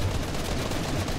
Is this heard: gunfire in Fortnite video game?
yes